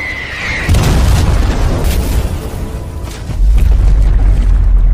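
A ballistic missile explosion roars loudly, its deep boom rolling on and swelling again toward the end, with no voices.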